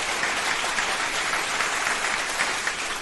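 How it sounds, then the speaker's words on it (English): Steady crowd applause, dense and continuous clapping at moderate level throughout, with no voices over it. "please applaud Rumble"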